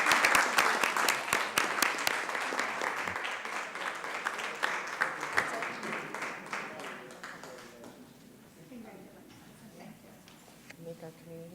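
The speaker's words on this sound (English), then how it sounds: "Let's give him another round of applause." Applause at a city council meeting, dense clapping from a crowd for several seconds that thins out and fades into a quieter room with scattered claps.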